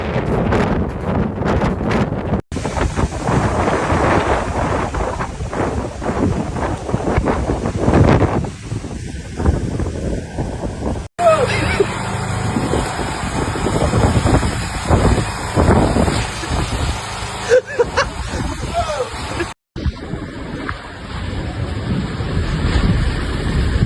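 Storm winds and crashing waves batter boats along the Istanbul shore, a loud roaring rumble of gusts and surf with abrupt shifts in intensity, no voices present.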